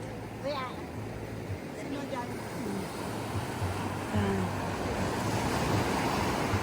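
Sea waves wash along a shore where fishermen land their fresh catch, a steady broadband surf roar mixed with wind. Voices talk faintly over it.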